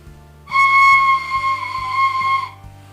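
A single sustained breathy note from a wooden sopilka holds steady for about two seconds, clear and close, over a faint low hum.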